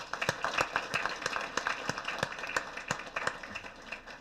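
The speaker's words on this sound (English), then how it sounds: "let's give all of them a big round of applause" Scattered clapping from a small audience at a school board meeting for students of the month, with distinct individual claps forming a thin, uneven round of applause.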